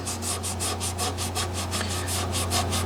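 Steady, rhythmic rubbing of a cloth working grain filler diagonally across a wooden guitar neck, repeated strokes close by, with a low constant hum underneath.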